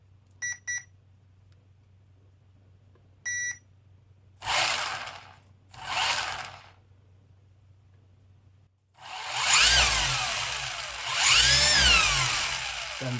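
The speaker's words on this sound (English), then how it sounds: "you can see the one-way torque splitter or one-way diff in action there" A Tamiya Egress Black Edition RC car with a one-way differential runs on the bench: a few brief beeps, then two whirring bursts of motor and drivetrain, then a longer, louder whine that rises and falls in pitch.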